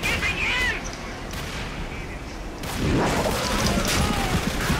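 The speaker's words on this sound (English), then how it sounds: "Wait, was that another grenade? Better not be another grenade." Grenade explosions in the shooter video game Dark Sector, loud bursts and crashes over continuous dense game noise, with a heavier blast about midway.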